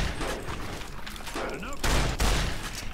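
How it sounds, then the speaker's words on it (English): Shotgun blasts in Fallout New Vegas, several loud booming shots close together near the end, over ongoing game background and clattering action. "So I'm gonna take a shotgun to your face."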